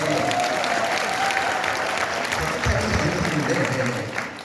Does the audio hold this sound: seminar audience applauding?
yes